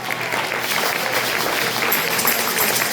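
A church congregation applauding with steady, dense clapping that fills the room and holds at an even level from start to finish.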